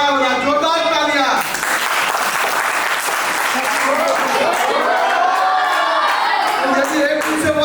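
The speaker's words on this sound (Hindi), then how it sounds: "नीरज चोपड़ा वाला जोरदार तालियां" Loud audience applause at a Bharatiya Sanskriti Samvardhan Samiti culture camp, bursting in after a brief voice and sustaining as a dense clapping wash, with a voice rising over it toward the end.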